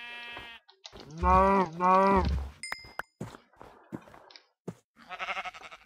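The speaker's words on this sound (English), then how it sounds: "Butcher the sheep, I'm too lazy to make shears." Blocky Minecraft sheep bleat twice in loud, wavering cries, followed by sparse clicks and dings from the game and a brief spoken word, then a softer bleat at the end.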